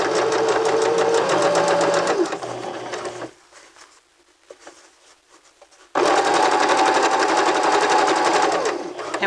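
A sewing machine stitches over a shirt shoulder seam through extra fabric bulk, running loud and steady in two long bursts with a pause between them, close by and alone.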